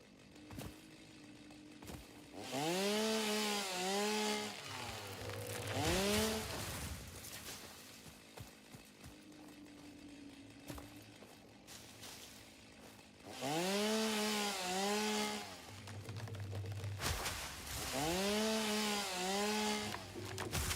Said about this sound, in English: the problem with the chainsaw is at this point, my chainsaw is competing for power from everything else